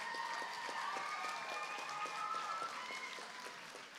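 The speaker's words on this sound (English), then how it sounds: "Round of applause." Moderate applause from a small audience at a kids' cooking competition, a soft, fairly even patter of hands with some ringing tones overlaid, fading slightly toward the end.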